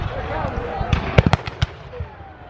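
Sharp bangs and cracking blasts from a 19th-century battle reenactment go off in a quick irregular cluster, several loud, under voices and background chatter.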